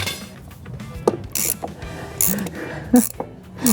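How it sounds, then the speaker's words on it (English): A ratchet wrench works loose the wheel nuts on a scrapped truck being restored. Sharp, close bursts of mechanical clicking come in short irregular spurts separated by brief pauses. "Do you reckon you can get it with the ratchet"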